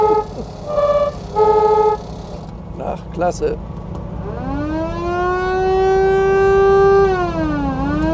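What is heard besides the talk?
horn and siren of 1949 VW Hebmüller police Beetle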